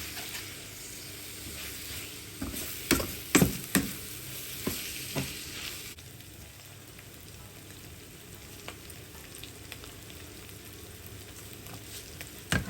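Onions fry for a Sindhi biryani under a steady sizzle while a straight-edged spatula stirs and scrapes, with several sharp knocks early on before the frying settles into a quieter hiss.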